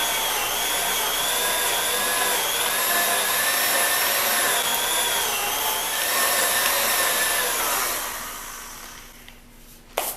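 A grinder chews through chunks of silicone mold rubber with a loud, continuous whine and rasp that holds steady, then drops away to a quieter spin-down with a final knock.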